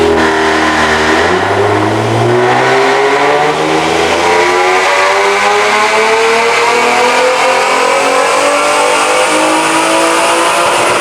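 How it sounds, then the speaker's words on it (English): A supercharged Acura TL engine on a dyno in a third-gear pull, roaring loud and continuous as its pitch climbs steadily for about eleven seconds, with no voices over it. "we're gonna do a third gear pull this time and see what comes up of it"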